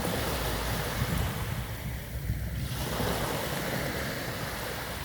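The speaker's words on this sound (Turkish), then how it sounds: "küçük dalgaların su sesleri" Small waves washing on a Mediterranean shore near a harbour, a continuous close roar of surf with wind buffeting, rising and easing slightly as water rolls in.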